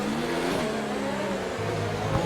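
Formula 1 car in a racing video game at Monaco, overtaking with a steady high engine whine and shifting pitch, with a rev change near the end, continuous with no talking.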